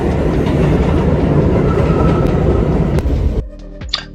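Steady loud rumble and rhythmic clatter of a commuter train heard from inside a carriage, continuous for several seconds before dropping sharply to a quieter hum with a faint squeal near the end.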